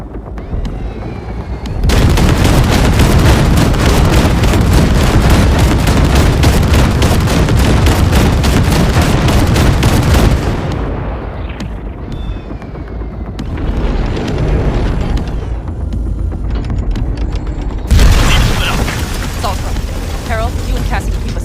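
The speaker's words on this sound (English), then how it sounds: "there's a monster gate that needs to be blown open" Explosion blowing open a large gate in the video game Cyberpunk 2077: a loud, sustained roar of blasts and rumbling debris for several seconds, then quieter rumbles and a second burst near the end, with some talk mixed in.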